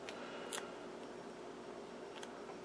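Cutters snip the leads of an internal component on a Philco 18 radio chassis during restoration, giving two sharp, close clicks over a steady background hiss.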